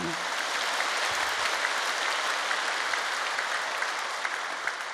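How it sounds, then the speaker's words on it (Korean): A church congregation at a Korean sermon service breaks into loud, sustained applause, a thick, even wash of clapping from many hands that holds steady for several seconds. "박수로 환영하십니다."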